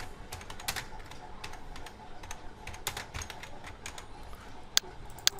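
Rapid bursts of keystrokes on a computer keyboard while a name is typed, close and crisp with uneven rhythm and a couple of louder taps near the end, over light background hiss.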